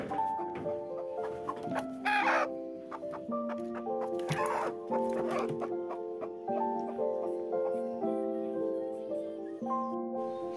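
Backyard hens cluck in soft, intermittent bursts at moderate distance, mixed with background music and faint household noise.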